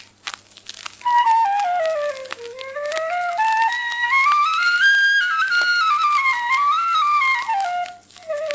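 A high, breathy primitive Malagasy six-hole whistle flute glides up and down through wavering pitches in a continuous, meandering melody, played alone and fairly close.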